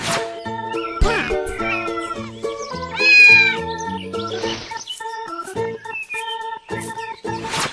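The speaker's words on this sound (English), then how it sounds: "Cat." Cat meowing over an upbeat children's music track, with a few distinct meows, one longer drawn-out call standing out clearly in the middle.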